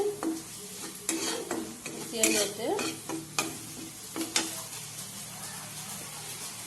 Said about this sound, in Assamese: মছলাখিনি ভজা হৈছে আৰু দেখিছে মছলা ভজা হৈছে